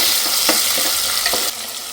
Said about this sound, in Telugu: గోల్డెన్ బ్రౌన్ కలర్ వరకు ఫ్రై చేసుకోవాలి కొంచెం కరివేపాకు వేసుకుంటున్నాను